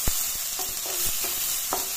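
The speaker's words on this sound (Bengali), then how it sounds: "আদা, রসুন, পেঁয়াজ খুব ভালো মতো ভাজা হয়ে গেছে" Close, constant frying hiss from ginger, garlic, onion, whole garam masala and dried chillies in a pan, punctuated by a handful of spoon taps and stirring scrapes, with no voices.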